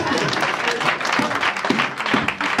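A church congregation claps and cheers in steady, dense applause that fills the room throughout, with voices mixed into the crowd noise.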